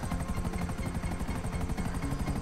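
Helicopter in the video game GTA V, a steady rotor chop with fast regular pulsing and a broad whine above it, continuous and fairly loud, with no talk over it.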